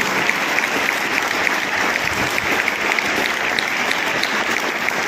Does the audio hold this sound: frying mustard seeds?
no